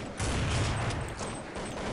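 Rapid bursts of gunfire in a video game, dense and continuous over the whole stretch with a slight dip near the end.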